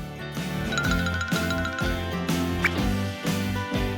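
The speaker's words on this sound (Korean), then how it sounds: "학교 종이 울렸어요." A school bell rings out as a bright, repeating chime of tinkling tones over a low rhythmic backing, loud and steady for about four seconds with no voices.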